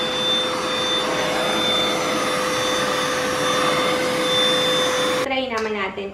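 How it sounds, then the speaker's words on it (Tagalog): A Deerma wireless vacuum cleaner, a steady loud whirring hum with a high-pitched whine that holds evenly, then cuts out near the end as a person starts talking. "If you need to vacuum small spaces o yung mga ganito, you can use this one."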